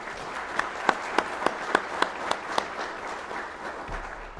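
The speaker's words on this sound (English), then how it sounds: "please give the guests of 1174 a round of applause" Applause from the audience at a US Border Patrol Academy graduation ceremony for Class 1174, several loud distinct claps standing out over a steady wash of clapping that fades toward the end.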